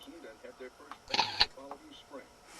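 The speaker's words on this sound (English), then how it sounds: "Here's what it sounds like when it takes a still picture." A single crisp simulated camera shutter click, close and brief, with soft talking before and after it.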